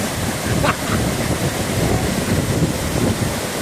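Steady rushing water at Inambakan Falls in Ginatilan, Cebu, a broad continuous roar with wind buffeting the microphone and no talk.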